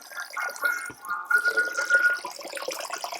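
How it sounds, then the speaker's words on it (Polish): Tap water runs into a basin in a thin, splashing stream, close and fairly soft, with dripping and trickling textures and no voices. "zmniejszę to sobie strumień wody"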